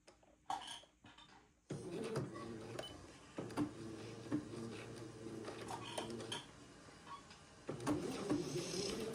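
A sewing machine runs a few stitches backward and forward with the presser foot down on suit fabric, a close steady mechanical rattle in two stretches with brief pauses and clicks between.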